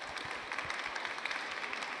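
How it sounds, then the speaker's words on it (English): Audience applause at the close of a climate and trade panel on carbon markets, a steady wash of many hands clapping at moderate distance, sustained and even without voices. "I'll invite the audience to give a round of applause to the speakers as we wind up."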